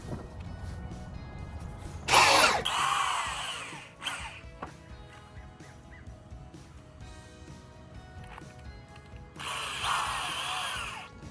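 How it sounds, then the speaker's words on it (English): A power drill drives screws through thin wooden pickets into 2x4 lumber for a raised garden bed, with two loud whirring bursts of several seconds each separated by quieter handling noise, close by. "Let's drill it together."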